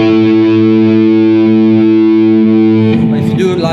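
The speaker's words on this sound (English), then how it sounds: "So with big distortion and the tone a bit close, you have this kind of thing for the fifths." Electric guitar fifths played through a Ratin Blue Angel Enrico Pinna signature distortion pedal set to heavy gain with the tone rolled back, a loud sustained harmonic-rich power chord ringing for about three seconds before cutting to a brief scratchy change.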